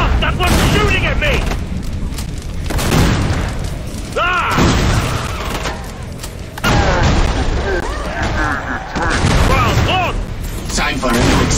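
Gunfire and heavy booms in the Killing Floor 2 video game on hard mode, loud repeated shots and explosive blasts filling the moment, with game voices shouting over the din.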